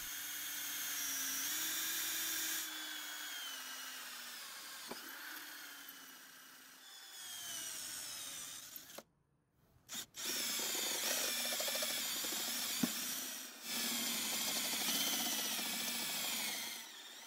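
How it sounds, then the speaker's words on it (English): Power drill boring a pilot hole and then working a step drill through a metal lawn mower bar, a steady whining bit note under grinding, broken by short pauses and one near-silent gap mid-way. "I then drilled a pilot hole and then followed that with a step drill."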